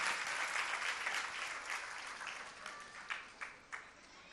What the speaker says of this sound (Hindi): इनके लिए एक बार जोरदार तालियां बजाइए।